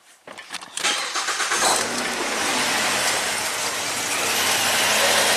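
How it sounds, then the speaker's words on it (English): A 2009 Ford Fusion with a no-crank, rough-running fault cranks briefly and catches, then settles into a loud, steady engine run that stays close and continuous to the end. "Let's just run the car, see if it responds."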